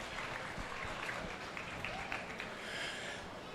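A crowd applauds at the Pierce County Fair beef show after youngsters bring in their calves, a steady, fairly faint wash of clapping that carries on throughout with no break.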